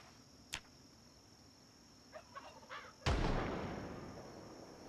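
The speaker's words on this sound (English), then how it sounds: "I heard a gunshot." A sharp, loud gunshot cracks out and its echo rings away slowly, preceded by a few faint clicks and softer ticks against a quiet background, in the video game Project Zomboid.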